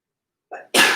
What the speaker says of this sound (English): a little extra runny nose and some sneezing happening